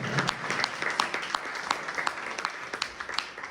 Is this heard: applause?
yes